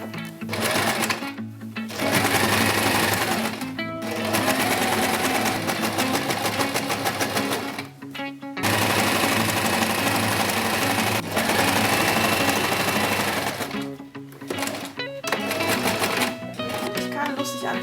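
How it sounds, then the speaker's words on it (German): Sewing machine stitching around the edge of a church-window patchwork pillow, loud rapid mechanical whirring in long runs broken by several short pauses. "Und dann muss ich einfach nur einmal außen rumnähen."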